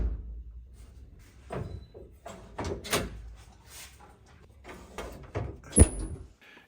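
A Cadillac door latch fitted to a 1949 Chevy clicks and the door opens with a few short mechanical clunks and one sharp metallic snap near the end, close up, with little else around.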